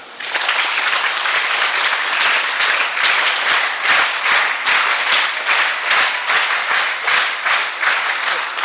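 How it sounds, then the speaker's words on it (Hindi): Schoolchildren gathered at a school talk clap loudly, a dense, sustained burst of applause with a slightly rhythmic surge, close and continuous for several seconds with no speech over it. "तो एक बार अपने लिए जोरदार ताली।"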